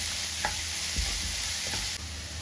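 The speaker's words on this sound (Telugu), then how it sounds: "onion just 1 minute వేయించుకున్నాము" Onions sizzling in hot oil for chickpea vada, a steady close frying hiss with a few soft stirring scrapes and clinks throughout.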